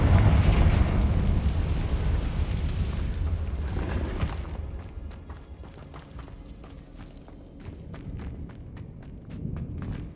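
A Confringo blasting spell goes off in Hogwarts Legacy with a loud, deep rumbling boom that decays over a few seconds, followed by quieter scattered clicks and ambient game sounds.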